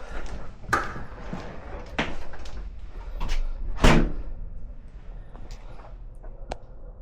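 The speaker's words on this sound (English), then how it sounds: "I can close this door." A house door swung shut indoors, several soft knocks and clicks spread over a few seconds, with one firmer thud of the door meeting its frame near the middle, heard close with no talking.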